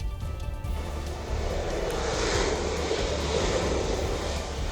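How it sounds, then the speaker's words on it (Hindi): A British Royal Navy F-35B fighter jet, grounded by a technical fault, takes off from the main runway at Thiruvananthapuram airport, giving a loud, steady broadband engine roar that builds and holds throughout. "जहां से ब्रिटिश जेट ने उड़ान के लिए रफ्तार पकड़ी और कुछ ही वक्त में विमान ने आसमान की ऊंचाइयों को छू लिया"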